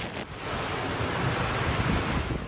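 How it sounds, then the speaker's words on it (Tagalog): Rough sea waves crash on the coast of Batanes on a stormy morning, a loud continuous roar of surf mixed with heavy wind buffeting the microphone. "Naggangalit ang dagat sa Batanes ngayong umaga."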